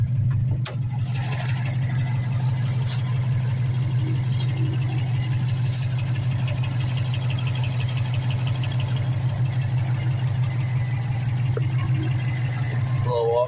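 A Subaru WRX engine idles steadily with the hood open, a constant low rumble running evenly throughout at close range with no other sounds above it.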